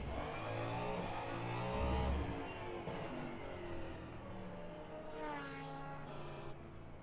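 An LMP2 prototype race car on a flying qualifying lap at Le Mans in rFactor 2, its high-revving engine droning steadily and shifting pitch through gear changes, with another car's engine sweeping past late on; no talk.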